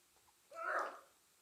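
A single short sneeze rings out faintly from the audience at a keynote talk, a brief burst lasting about half a second in an otherwise quiet room.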